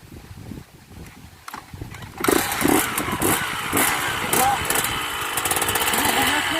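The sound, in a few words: motorcycle accelerating during a wheelie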